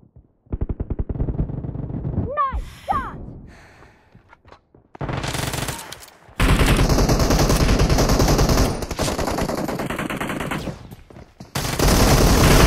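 Automatic weapons fire in a PUBG Mobile team deathmatch, loud rapid bursts broken by brief pauses, with a short chirping effect early on and long sustained volleys later.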